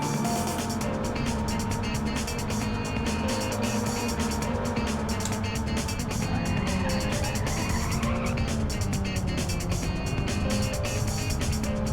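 A racing car in the game Ridge Racer Type 4, expert mode, roars continuously with engine whine and repeated tire squeals as it skids and slides, loud and close throughout, with no talking.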